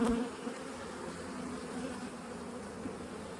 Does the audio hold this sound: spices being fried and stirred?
no